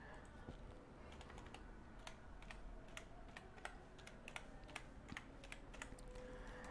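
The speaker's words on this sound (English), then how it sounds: "you can type the name of the website" Keys clatter on a computer keyboard as a website name is entered into a browser setting, a quick irregular run of light, close clicks over a steady quiet background hum.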